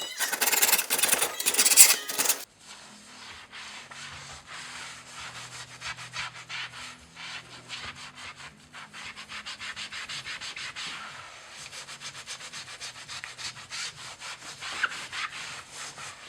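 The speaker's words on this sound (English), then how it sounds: "I'm just going to polish it with some kind of metal polish and not sand it like I was" Metal polish rubbed by hand over an anodized metal part on a steel sailboat, a steady scrubbing and rubbing that runs continuously after a brief loud burst at the start, close and moderately loud with no talk.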